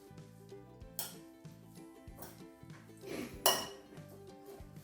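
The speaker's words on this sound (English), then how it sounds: "I'm going to give this one more stir real quick" Utensils stir a summer salad in a bowl, giving a few sharp clinks against the dish at irregular intervals over steady background music.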